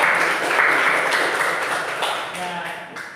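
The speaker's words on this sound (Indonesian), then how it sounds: "Beri tepuk tangan." Audience applause in a classroom-style setting, a brief burst of clapping that fades over a few seconds, with a voice speaking over it.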